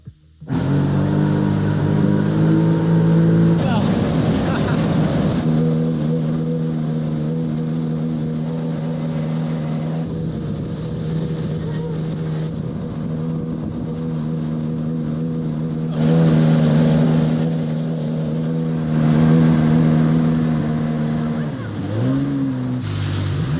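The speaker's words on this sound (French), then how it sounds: "C'est la première fois que Yuliana va essayer le scooter et le jet ski" A jet ski's engine drones steadily on the river in Kyiv, a close, sustained motor hum with slight rises in pitch, accompanied by water splashing and wind rush, with no one speaking.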